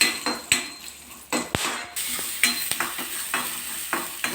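Whole spices such as cloves roast in a pan for biryani, a steady dry sizzle broken by sharp scraping and clinking strokes of a metal spoon stirring against the pan, with no voices.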